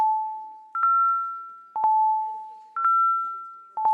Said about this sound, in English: let's ring the bells so we can vote